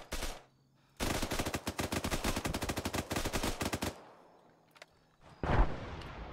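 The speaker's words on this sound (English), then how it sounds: "I'm going to take some shots" Automatic gunfire in the video game Arma 3, during an amphibious attack on a jungle island: a long, loud burst of rapid shots that stops abruptly, then a short pause before another sharp burst.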